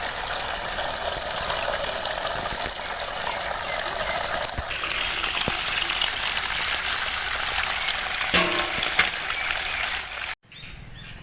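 Greens are rinsed under running water, a steady rushing gush with faint splashes and clatter that carries on for about ten seconds, then cuts off abruptly into quieter room noise.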